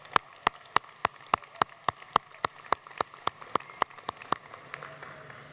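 A graduating college class applauding themselves at a commencement ceremony, heard as a steady run of about twenty sharp, evenly spaced claps that thin out and fade near the end.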